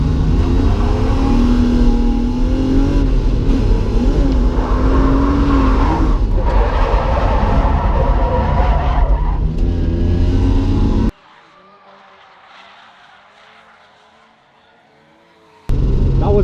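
A drift car on a track at Driftland UK, its engine roaring and revving loudly and continuously with screeching tire squeal, close and dominant, before cutting abruptly to a quiet stretch of faint background noise and then resuming.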